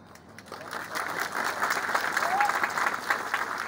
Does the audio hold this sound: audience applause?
yes